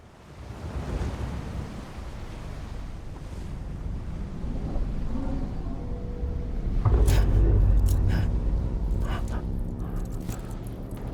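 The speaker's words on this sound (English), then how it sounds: "Yep, I hear the waves." Ocean waves break on a beach in the video game Death Stranding, a continuous surging wash that builds louder toward the end, mixed with wind noise and faint higher clicks, with no voices.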